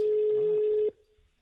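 A single steady telephone ringback tone sounds for just under a second, then cuts off abruptly, leaving faint background noise and a soft murmur.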